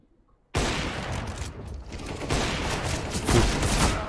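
Gunfire in CS:GO shot through a corner, starting abruptly after a short silence and continuing as a dense, loud rattle of rapid shots with rising intensity toward the end.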